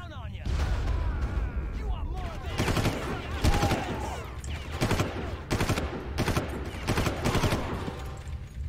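Gunfire and a grenade launcher shot in the Far Cry video game, with repeated loud bursts and sharp cracks across the whole stretch over a steady rumble, while a voice talks now and then.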